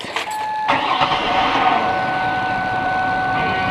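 A 2000-2007 Ford Taurus engine cranks briefly and catches after fuel filter removal, then settles into a loud steady idle with a faint whine, close to the car and without talk.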